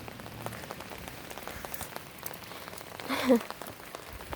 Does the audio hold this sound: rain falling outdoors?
yes